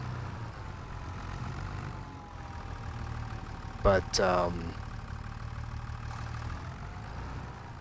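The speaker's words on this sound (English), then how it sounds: "So glad we got the tractor." A tractor engine idles in Farming Simulator 25, a steady low rumbling drone that runs throughout while a voice speaks briefly near the middle.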